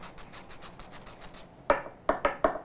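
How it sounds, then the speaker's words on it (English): Sandpaper rubbing across the surface of a homemade peanut butter sandwich cookie, a soft steady scratching for about a second and a half, then four sharper, louder gritty strokes, close and alone. "The sandpaper was really effective,"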